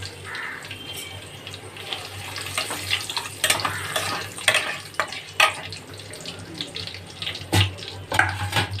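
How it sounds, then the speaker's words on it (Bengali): Whole dried red chillies, bay leaf, cumin and whole garam masala sizzle in hot oil as a tempering. The crackle and spatter is close and uneven, with sharper pops scattered throughout. "এবার আমি এই তেলের মধ্যে ফোড়নের জন্য গোটা শুকনো লঙ্কা, তেজপাতা, গোটা জিরে আর গোটা গরম মশলা ফোড়ন দিয়ে দিলাম"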